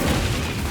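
Incendio fire spell cast in Hogwarts Legacy, a brief, loud, dense burst of whooshing flame noise lasting under a second.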